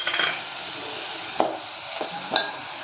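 Garam masala and mustard seeds sizzle steadily in a hot pan for a sprouted horse gram curry, with a continuous close frying hiss broken by a few sharp spoon scrapes and clinks against the pan.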